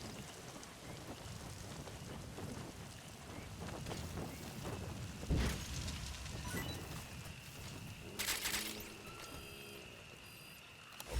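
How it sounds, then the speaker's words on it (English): Steady rain pours in Metal Gear Solid V, a dense continuous hiss with a low thunder crack partway through and more rumbling near the end. "It's raining!"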